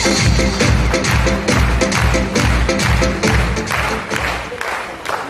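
An audience at a business event for RCM breaks into rhythmic, loud clapping that stays even and sustained throughout, without voices standing out.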